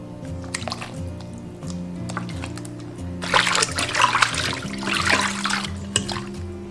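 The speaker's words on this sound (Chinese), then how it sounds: "锅中倒食用油，" Cooking oil pours into a pot for a braised pork intestine dish, a splashy, liquid rush lasting a couple of seconds after softer drips, over a steady low kitchen hum.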